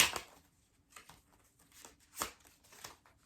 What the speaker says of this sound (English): These cards are so flimsy. I say that every time I shuffle them.